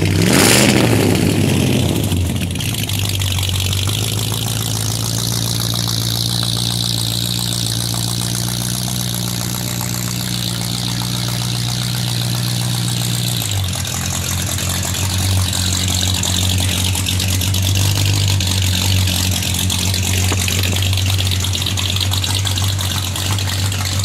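A 1951 Ford Ranch Wagon with a 5.0 engine roars loudly and steadily through its exhaust, a deep sustained drone with a shift in pitch partway through.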